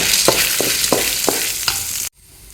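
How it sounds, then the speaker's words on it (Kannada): Garlic and roasted gram fry in a pan for hotel-style chutney: a loud, steady sizzle with about five rhythmic stirring scrapes, then the sound cuts off abruptly. "ಮತ್ತೊಂದು ಐದಾರು ಬೆಳ್ಳುಳ್ಳಿ ತಗೊಂಡು ಅದು ಹಾಕ್ತಿದ್ದೇನೆ ಸ್ವಲ್ಪ ಪುಟಾಣಿ ಕಡಲೆ ತಗೊಂಡು ಒಂದು ಕಪ್ಪು ಅದನ್ನು ಹಾಕ್ತಿದ್ದೇನೆ ಇನ್ನೆಲ್ಲ ಚೆನ್ನಾಗಿ ಫ್ರೈ ಮಾಡುವ"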